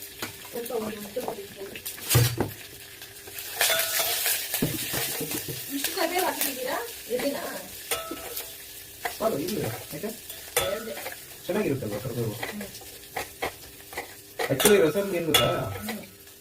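Cumin and chillies crackle and fry in a hot pan, with stirring, clinking utensils and pot knocks mixed in. People talk intermittently close by.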